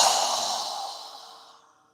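A single long breath drawn during a yoga session, a breathy airy rush that starts fairly loud and fades steadily away over about two seconds, with no talking.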